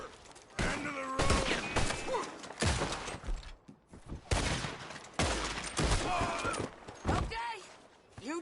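Gunfire from the Red Dead video game: repeated loud bursts of shots, some rapid and overlapping, scattered across the scene amid shouting and other game sounds.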